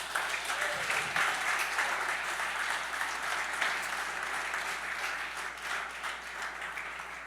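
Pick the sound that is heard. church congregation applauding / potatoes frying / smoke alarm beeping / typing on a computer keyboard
church congregation applauding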